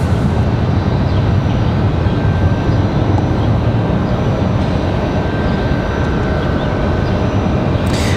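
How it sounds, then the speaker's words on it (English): An American Airlines Boeing 737-8 sits at the end of the runway at Raleigh-Durham International Airport, its engines a loud, steady, broadband roar that holds without a break throughout. "Do have an American 737 at the end of the runway. That one's getting ready to head back to Miami."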